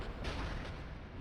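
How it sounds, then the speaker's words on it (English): A magic explosion cast by Quelaag, a giant spider-woman boss in a video game, a muffled, rumbling boom that swells and fades over about a second, heard alone without talk. "Get away from her magic explosion because I do not want to get exploded."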